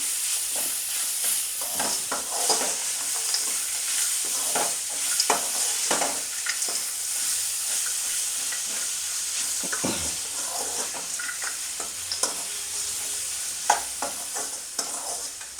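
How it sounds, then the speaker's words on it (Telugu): Grated raw mango mixture for mango pulihora is stirred in a hot pan with a soft, continuous sizzle and scattered scraping strokes throughout, fairly quiet and close, with no voices. "తర్వాత అటు ఇటు కలుపుకోవాలి."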